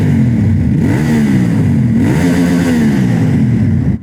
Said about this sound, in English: we've got this SC Project accessory exhaust, which is why I've just pulled up here under a tunnel